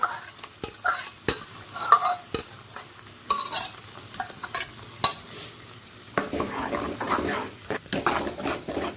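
Ground spice paste for chana masala sizzles and fries in a hot pan while being stirred, with scraping strokes and bursts of crackle, close and fairly loud, no voices.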